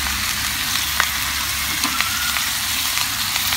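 Green chili, ginger and garlic sizzle steadily in hot oil in a pan for a dried-fish pickle, a continuous close frying hiss with small crackles and no voices.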